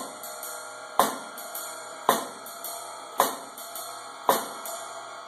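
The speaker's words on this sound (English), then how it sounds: "Number six, we're going to block on two and on four" A jazz drum set groove with a snare block on beats two and four: four evenly spaced, crisp woody clicks over a steady swung cymbal pattern, close and alone.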